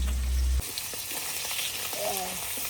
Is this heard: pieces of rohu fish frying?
yes